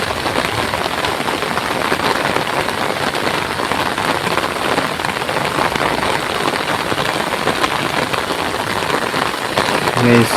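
A heavy downpour drums continuously on surfaces close by, thick pattering drops holding a steady loud level, with a brief voice-like sound right at the end.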